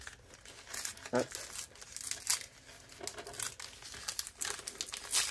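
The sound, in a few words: opening and unwrapping advent calendar package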